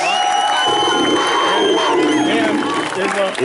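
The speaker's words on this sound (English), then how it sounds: "one final loud and proud round of applause for our 2015 Athletic Hall of Fame inductees" Crowd applause and loud cheering for the 2015 Portville Athletic Hall of Fame inductees, a dense roar of shouting and whooping voices over clapping that stays loud throughout.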